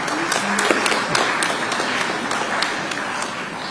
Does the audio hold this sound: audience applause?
yes